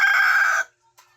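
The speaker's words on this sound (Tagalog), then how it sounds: "meron na naman tayong bagong alagang manok. Ayan, 1 month old na chicken, no?" A one-month-old chicken gives a single loud, close call lasting about half a second, then falls silent apart from a faint short chirp.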